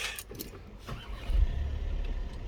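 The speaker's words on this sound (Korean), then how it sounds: "자, 시동 스타트." A new Volkswagen Tiguan's engine starts, with a brief rustle inside the cabin before a low mechanical rumble swells up and settles into a steady idle, heard from inside the car.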